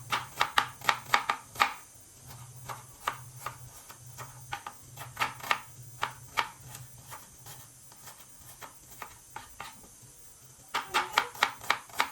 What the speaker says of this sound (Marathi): तर आता पाणीपुरीच्या मसाल्यासाठी मी थोडासा एकदम बारीक कांदा चिरून घेत आहे.